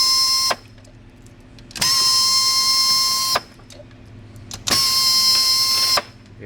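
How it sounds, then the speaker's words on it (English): An air ratchet undoes TMIII backplate bolts in three separate bursts of a loud, close, high whirring whine, with short pauses between them. "You will notice we have an air tool for this, but any hand ratchet will work."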